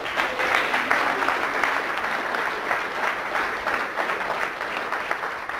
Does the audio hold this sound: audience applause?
yes